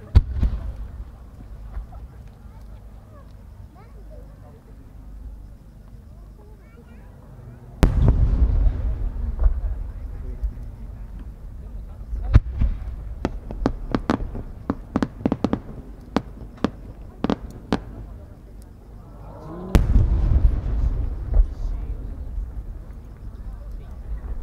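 Fireworks display at the 2018 Omagari fireworks competition, by the Isogai fireworks company: deep booming bursts and a rapid string of sharp crackling reports, with a large launch blast partway through and another near the end, over faint crowd murmur.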